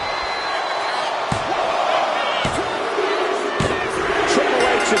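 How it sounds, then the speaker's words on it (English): A packed arena crowd roars continuously in a wrestling video game match, with sharp slams and impacts punching through the steady cheering noise. "Packed crowd on their toes."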